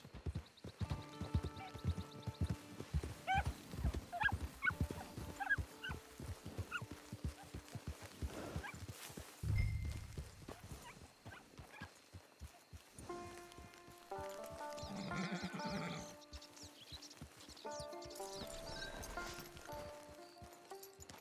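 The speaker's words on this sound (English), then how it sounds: "Get your horse." Horse hooves clip-clop in the video game Red Dead Redemption Online, a steady, fairly close trotting rhythm mixed with game music and ambient outdoor sounds.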